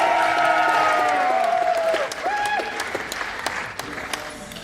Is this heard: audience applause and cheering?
yes